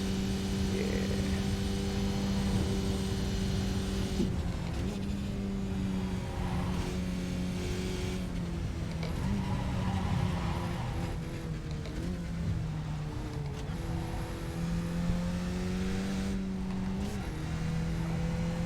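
Open-wheel motorbikes racing in a video game, a steady loud engine drone with shifting pitch as the bikes rev and ease off, continuous throughout with no talk.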